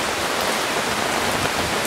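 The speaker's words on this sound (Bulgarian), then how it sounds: "Един човек да се радва на дъжда." Steady rain falling, a dense even hiss of drops spread across the whole band, loud and continuous with no talk.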